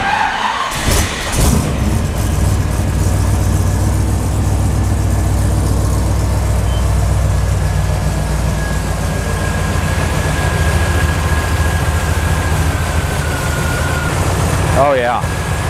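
A 1963 Ford F100 truck engine cranks and starts at the beginning, then runs with a steady low rumble, close and loud throughout, with a brief higher whine near the end.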